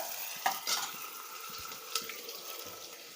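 Onions frying in oil until reddish for a home-made veg biryani: a low steady sizzle with a few sharp spatula clinks and scrapes near the pan, quiet and close, no voices.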